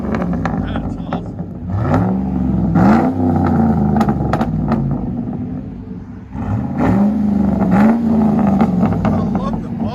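A Chevy Silverado 4.8L V8 with straight-pipe exhaust rumbles loudly up close and revs sharply twice, near the start and again midway, over a deep idle.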